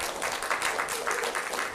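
Audience applause at a game developers conference, a steady wash of many hands clapping, moderately loud and continuous throughout.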